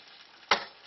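Risotto rice being spread level in a pan after the last of the broth goes in: a single short scrape over a faint, steady simmering hiss.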